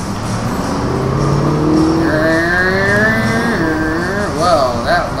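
A car engine in the video game Alan Wake, droning loudly and steadily with rising revving tones as the vehicle drives on, close and continuous throughout.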